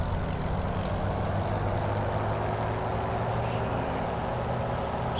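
Hawker Hurricane Mk1 aircraft engine held at high throttle during a magneto test, a loud, steady, continuous propeller drone that runs unbroken throughout with no speech.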